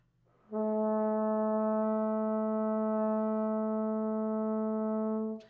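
A single steady horn tone playing a natural harmonic sounds alone for about five seconds, clear and even, with a pure, rich overtone series.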